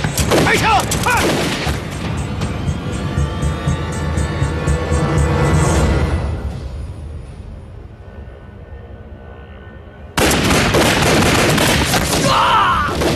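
Gunfire in a kung fu action film set during the anti-Japanese war, a loud burst of shots and booms for about six seconds, then a quieter rumbling stretch before another loud burst with shouting returns.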